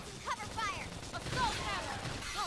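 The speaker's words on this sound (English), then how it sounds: "Gunfire." Bursts of gunfire rattle through busy Xenoblade Chronicles X combat audio, mixed with sweeping electronic effects and a steady low rumble, with a voice talking over the action.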